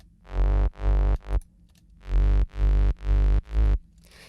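A gritty synth bass with its mids cut by EQ plays seven short, punchy notes in a choppy rhythm. The tone is heavy in the lows and buzzing on top, loud and close with no talk.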